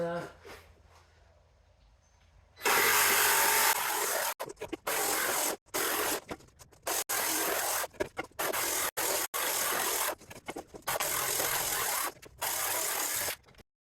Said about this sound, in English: the next shot you're going to see is me cutting it with a jigsaw